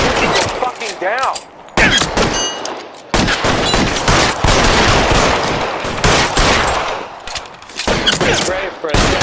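Loud, dense gunfire in the game L.A. Noire, heavy bursts and sustained volleys with brief pauses, and shouted voices mixed in.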